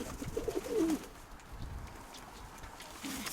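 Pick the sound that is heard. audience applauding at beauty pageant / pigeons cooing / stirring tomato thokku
pigeons cooing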